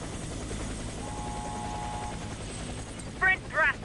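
Helicopter rotor drone in the Warface video game, a steady mechanical thrum filling the background, with game sound effects and voices briefly overlapping near the end.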